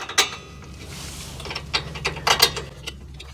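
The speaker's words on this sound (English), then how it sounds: "I'm just using the Gear Wrench 85062 torque wrench on this" Ratcheting clicks from a Gear Wrench 85062 torque wrench tightening rear brake slide pin bolts on a Nissan Pathfinder, several short bursts of clicking close by with a faint mechanical background and no talk.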